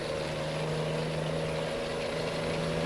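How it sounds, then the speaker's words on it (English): Steady, loud tire howl and drone of a truck cruising at speed in American Truck Simulator, a continuous tonal hum with no breaks and no talking. "You just hear those tires howling."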